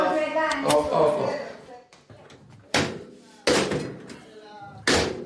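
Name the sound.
door slammed shut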